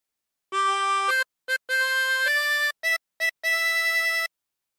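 A 24-hole tremolo harmonica plays the opening phrase of O Christmas Tree, a short run of clear, wavering blown and drawn notes with brief gaps between them, solo and close.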